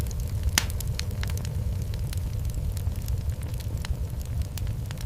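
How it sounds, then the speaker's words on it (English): A wood fire burns in the oven of a New York City wood-fired bagel bakery, with sharp, irregular crackles and pops over a steady low roar. The sound is close and continuous, with no voices. "The wood fire crackles."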